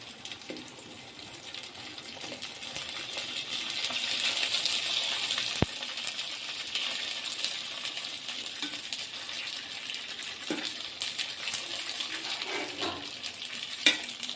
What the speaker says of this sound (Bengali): আর ফুচকাটুকু ভেজে নিব।